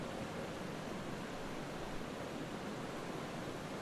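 Steady broadband rush of the flowing Mara River in Kenya beside a safari tented camp, a continuous even wash of water with no breaks or voices.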